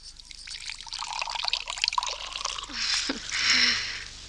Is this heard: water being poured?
yes